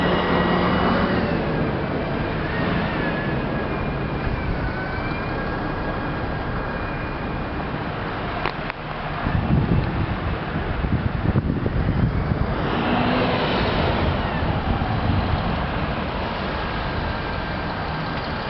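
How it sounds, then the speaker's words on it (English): Steady traffic rumble at a roundabout near Dockside in Gillingham, with cars and heavier vehicles passing close by, overlaid with constant wind buffeting on the microphone. "And now to another roundabout near Dockside"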